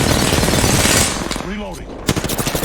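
Gunfire in the video game Apex Legends, a dense burst of rapid automatic shots up front, then a brief lull with a short in-game voice line before more sharp shots resume.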